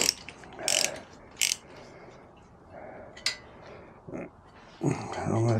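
A ratchet loosens the domed 12mm exhaust bolt on a Kawasaki Z900RS motorcycle, making short bursts of close clicking with low rustling in between and a louder clatter at the end.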